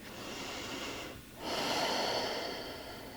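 A yoga instructor draws a long, audible breath through the nose, then exhales slowly and steadily after a brief pause, close and soft in a quiet room.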